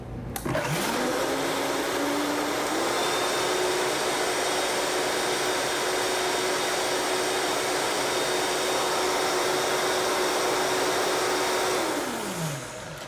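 A Vitamix blender spins up, holds a loud, steady high whir for about eleven seconds, then winds down to a stop, with no one talking.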